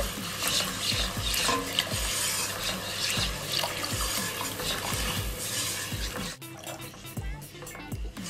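Béchamel sauce is stirred in a pan while fresh milk is poured in for a beef lasagna, giving a bubbling, scraping stir under rhythmic background music with a thumping beat.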